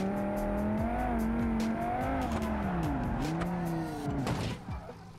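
A modded car in BeamNG Drive revs and slides, with a steady engine drone, several tire squeals and bending pitch. Clattering impacts build toward the end and then die away.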